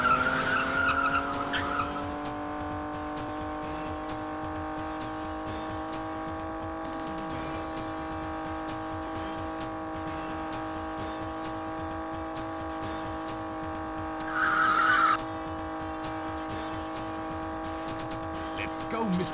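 A British sports car drives in the video game Castlevania: Lords of Shadow – Mirror of Fate, giving a long, steady whining squeal of skidding tires that holds nearly unchanged. Brief louder bursts come at the start and near the end.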